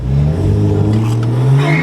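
Stage 2 BMW 335i accelerating hard while racing a 2018 Golf R, a loud rising engine roar climbing in pitch over about two seconds, close and alone.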